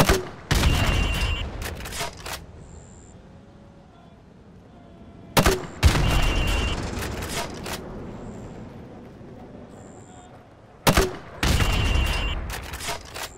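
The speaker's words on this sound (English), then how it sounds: "now pop a grenade into windows 5, 6 and 7" Grenade launcher rounds exploding in Modern Warfare Remastered, three loud, sharp blasts spaced a few seconds apart, each followed by a rumbling decay and scattered debris sounds.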